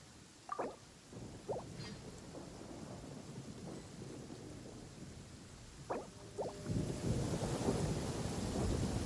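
Rain and rolling thunder in the video game Genshin Impact, with steady rainfall throughout and several low thunder rumbles, the last growing louder and fuller near the end.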